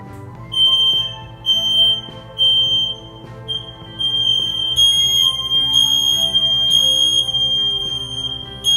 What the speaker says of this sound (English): all of these like smoke detectors going off in the back frequently